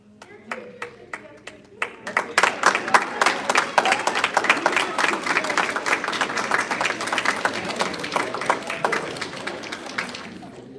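Attendees at a school board meeting give a round of applause: a few scattered claps build quickly into dense, lively clapping from a room of people, holding steady for several seconds before easing off.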